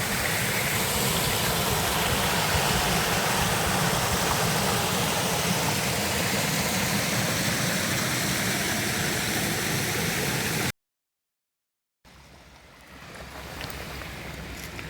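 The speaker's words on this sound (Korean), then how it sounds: "이거는 사계절 흐르는 물이네." Water rushes steadily through a mountain valley stream that flows year-round, a loud, dense, unbroken roar for about ten seconds before a short cut to silence and then quieter ambient sound.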